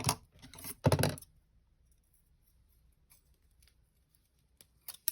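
Scissors snip through beading thread on a holiday beaded ring: a short cluster of crisp close cuts near the start, then near silence, with faint handling clicks at the end.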